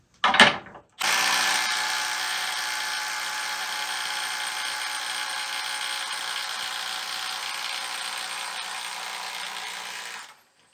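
A Dewalt DCF921 20V cordless impact wrench, set to its fastest mode, hammers steadily at a nut for about nine seconds after a brief opening burst, loud and close, with no talking.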